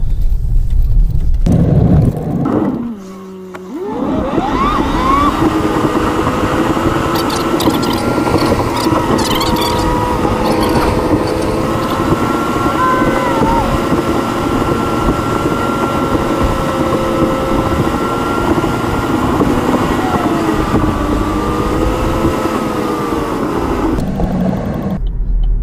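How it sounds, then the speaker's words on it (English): A 2016 Chevrolet Cruze 1.4L with a P1101 fault code, driving with a steady engine drone and gently rising and falling tones, a brief dip near the start and road and wind noise over the whole run. "So let's take this for a drive real quick and we'll see."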